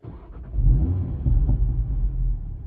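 An Audi TT RS with its exhaust set to sport mode gives off a deep, steady rumble close by, swelling slightly in waves with no voices over it.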